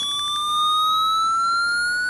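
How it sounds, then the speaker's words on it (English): A Midland HH50 weather radio sounds its siren test, a steady, loud, piercing electronic wail that rises slowly in pitch and continues unbroken throughout, heard close up with no talking. "I'm going to do the siren test on the HH50 first to make sure it's not dead"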